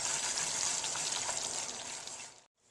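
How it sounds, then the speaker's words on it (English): Hot sugar syrup pouring onto a gelatin mixture for homemade marshmallows, a steady close hissing, gushing stream that tapers off and stops near the end. "now we are pouring this on top of the gelatin mixture"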